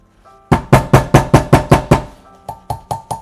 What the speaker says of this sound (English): when you're hammering weaving wire or a weave, you're gonna want to be really careful.